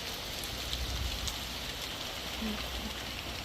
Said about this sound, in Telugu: సో అలా చూస్తున్నారు కదా, రెయిన్ పడుతుంది.